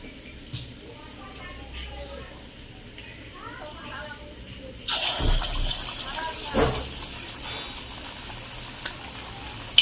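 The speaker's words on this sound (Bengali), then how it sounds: "এইভাবে আমি সবগুলো ভেজে নেব গোল গোল করে একটু" Egg-and-flour-coated chicken kofta balls drop into hot oil, which bursts into a loud, close sizzle halfway through after a quieter opening where a voice speaks softly, then fries on with a few pops.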